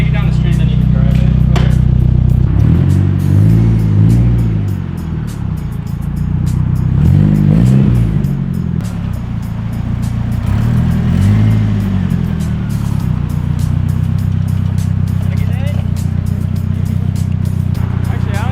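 A Nissan 240SX S13 with a rod-knocking engine idles loudly, then reverses and pulls away, its low engine note rising and falling steadily throughout, with people talking over it.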